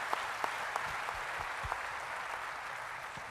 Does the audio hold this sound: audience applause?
yes